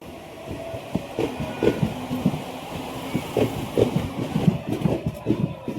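A crowded Ratnagiri–Diva passenger train runs on the Konkan line, heard from inside the carriage. It makes a steady low rumble with rhythmic clacking pulses and a murmur of passengers.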